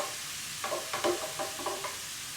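Marinade poured into a hot pan with seared ahi tuna sizzles steadily, with a quiet series of soft crackling bursts over the constant hiss.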